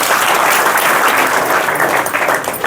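A seated gathering breaks into loud, dense applause, many hands clapping together in a steady roar that holds for a few seconds before easing slightly.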